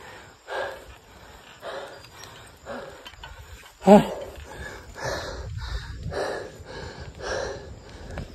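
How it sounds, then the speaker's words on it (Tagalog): Cyclist riding up a steep mountain climb near Little Baguio, Villaverde, Nueva Vizcaya, breathing in heavy, rhythmic pants and gasps close to the mic, with one sharper exhale midway through. "Yung hingal, grabe."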